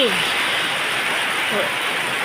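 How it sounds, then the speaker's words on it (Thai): Rain falls on leafy trees in a steady, even hiss that stays close and continuous throughout, with no breaks or louder bursts. "ฝนตกค่ะ"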